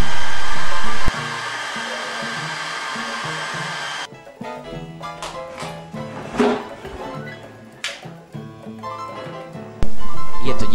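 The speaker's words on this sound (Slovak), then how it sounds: "Je to fén." A hair dryer runs at full blast with a steady, loud broadband whoosh, cuts out at about four seconds, then roars back on near the end.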